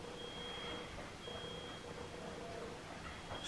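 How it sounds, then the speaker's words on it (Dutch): A high, thin fire alarm tone sounds steadily and faintly at a distance, with a brief break partway through, over a noisy background hiss. "Dat brandalarm van gisteravond."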